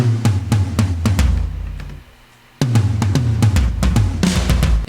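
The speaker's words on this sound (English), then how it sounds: "All these cool tom fills." Tom drum fills roll in quick descending hits, swallowed by a wash of plugin reverb. They stop for a brief dip, then return as dense, loud rolls with a boomy low end.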